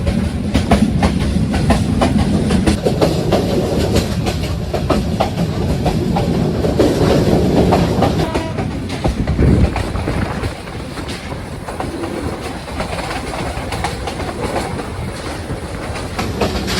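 A train crossing village countryside near Sreemangal rolls with a loud, continuous rumble and clickety-clack of the wheels, heard close from inside and steady throughout.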